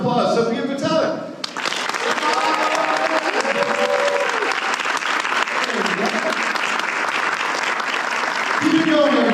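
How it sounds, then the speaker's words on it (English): A fan convention crowd in Dallas applauds and cheers as actress Sofia Boutella is welcomed on stage, with dense, loud, sustained clapping after a host's brief introduction and a voice briefly heard over the ovation near the end. "big Texas round of applause, Sofia Boutella"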